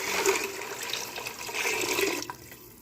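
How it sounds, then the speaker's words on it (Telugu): Measured water poured into a cooking pot for making uppidi pindi, a steady close splashing gush that slowly tails off after a couple of seconds. "సో నేను నీళ్లు పోసేస్తున్నాను."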